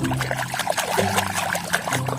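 Water runs and splashes as a red plastic toy animal is rinsed, a short continuous pouring and trickling sound heard close up.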